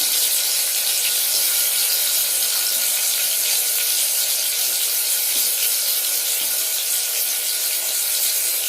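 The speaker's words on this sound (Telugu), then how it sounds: "ఉల్లిపాయలు, పచ్చిమిర్చి వేగనిద్దాం" Onions and green chillies fry in a pan with a steady, loud sizzle that hisses on without a break. It sounds close and stays even throughout, with no talking.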